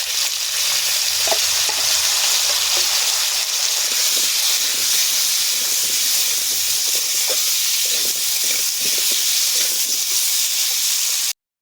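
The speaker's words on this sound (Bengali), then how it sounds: "এবারে আলুটা ভেজে নেব লাল লাল করে আলু দিয়ে দেবো আর হলুদ দিয়ে ভেজে নেব" Potatoes with turmeric fry in hot oil, giving a loud, dense, unbroken hiss and sizzle close up with faint occasional stirring taps, no voices, and it cuts off abruptly at the end.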